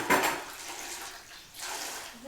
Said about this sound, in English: I'm gonna dunk my washcloth in this steaming hot water